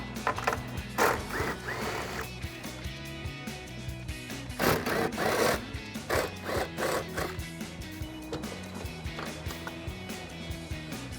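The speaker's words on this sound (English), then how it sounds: "now I'm just going to use an 11mm socket on a small impact driver to undo each of the 3 nuts" A small impact driver with an 11mm socket removes the taillight nuts on a 2010-2012 Mustang, firing in short, loud rattling bursts separated by pauses, with lighter clicks and handling noises between them.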